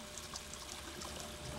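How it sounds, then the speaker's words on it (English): Running water trickling in a small stream, a steady, soft, continuous splashing hiss with no talk. "Don't you just love running water?"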